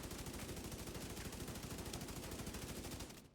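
Rapid automatic gunfire from a weapon emptying a full magazine at the firing range in The Division 2 video game, a dense continuous burst of shots at steady volume that cuts off abruptly at the end.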